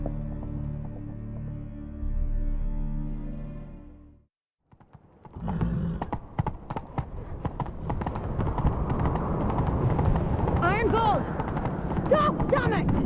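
Horse hooves gallop in The Witcher 3, a rapid, steady clip-clop that starts after a short pause and builds into continuous pounding, with snorts or whinnies near the end.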